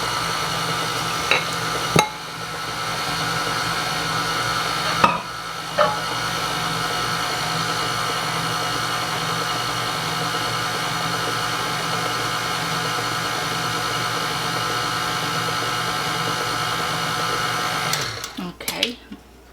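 Electric mixer beating lemon blueberry cake batter, a steady loud motor whir running continuously for most of the span with a few clicks and knocks, then stopping abruptly near the end.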